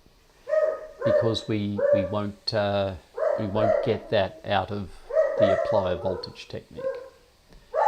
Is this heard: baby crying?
no